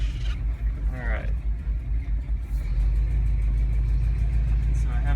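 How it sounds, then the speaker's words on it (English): A 1978 Dodge Ramcharger's engine rumbles low and revs up briefly on a grassy driveway, settling into a steady heavy idle, with a person talking over it at the start. "I do have to give it a little bit of gas to get out of here"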